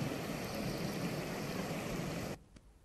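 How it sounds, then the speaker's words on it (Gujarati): The Shetrunji river in flood near Halariya village in Bagasara, Amreli, after heavy monsoon rain: a loud, steady, broadband rush of churning water that fills the clip, then cuts off abruptly near the end, leaving quiet. "બગસરા વચ્ચેથી પસાર થતી સ્થાનિક નદીના છે કે જ્યાં પાણીનો પ્રચંડ પ્રવાહ જોવા મળી રહ્યો છે."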